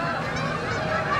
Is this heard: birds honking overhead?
yes